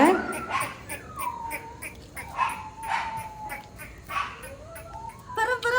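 A white Pomeranian puppy whimpers and yips in a series of short, high cries, fairly close and moderately loud, with a person's voice talking nearby.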